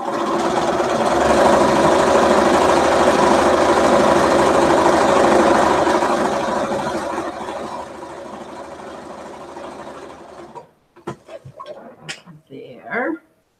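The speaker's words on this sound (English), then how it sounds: "we'll sew along the straight edge" A sewing machine stitches cotton fabric along a straight edge, whirring loudly and continuously for about ten seconds before stopping, followed by a few brief voice-like sounds.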